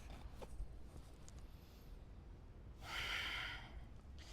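Deep breaths taken during a guided breathing exercise at a Hindu temple, faint and soft at first, then one strong, close breath swelling for about a second near the end, with no talking over it.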